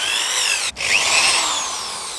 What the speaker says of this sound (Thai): เดี๋ยวเราใช้สว่านเจมากันดู ตัวนี้จะเป็นสว่านรอบต่ำนะครับ